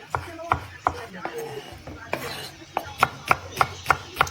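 A knife chops cucumber and tomatoes for a salad, striking a cutting board up close with irregular cuts at first, then settling into a quicker, steady run of sharp knocks.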